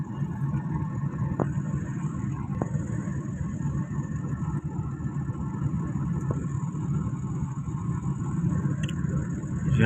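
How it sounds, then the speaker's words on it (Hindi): Congested road traffic on a rainy day near King Abdullah Hospital on the Mansehra–Abbottabad road, a steady low rumble of car and truck engines heard from inside a vehicle, continuous and moderately loud. "तकरीबन जाम रहती है।"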